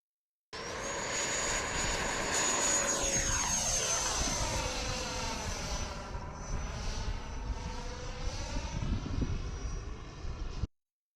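A Freewing Venom V2 90mm EDF RC jet flies overhead, its ducted fan giving a loud, continuous whine that sweeps in pitch as it passes by and climbs away, with no talk.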